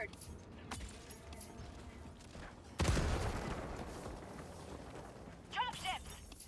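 Explosions and gunfire in Helldivers 2, a game battle against Automatons: a sudden loud blast near the middle with rumbling decay, then scattered mechanical bursts and whines over steady background combat noise.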